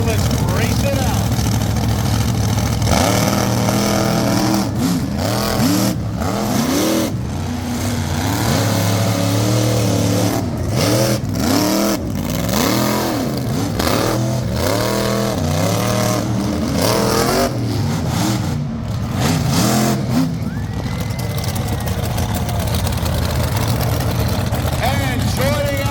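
Monster truck engines roar and rev continuously at an outdoor monster truck race in La Plata, Maryland, with loud throttle surges rising and falling throughout. An announcer's voice carries over the engines.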